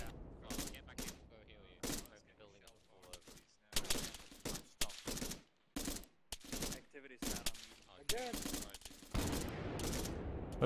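Video game gunfire with RPG fire, sharp bursts and rapid volleys in uneven clusters, loud and close, with mechanical clatter between shots and a voice shouting in places.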